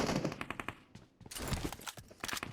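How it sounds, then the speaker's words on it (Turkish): Gunfire in the mobile battle royale game PUBG Mobile, shotgun blasts among rapid sharp reports in bursts, loud and close, with a short lull in the middle before the shots resume. "Ay kulaklarım sağır oldu pompalı sesinden."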